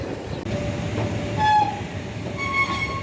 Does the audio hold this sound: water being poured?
no